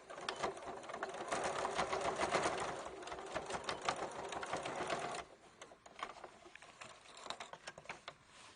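A sewing machine stitches binding onto fabric in a fast, even whir of needle strikes, running steadily for about five seconds and then continuing in shorter, slower bursts.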